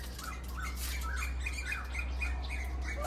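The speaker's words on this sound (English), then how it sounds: "now the birds are quite loud" Repeated squawking bird calls ring out over a low steady hum, several harsh cries in an uneven rhythm at moderate distance, in Thailand.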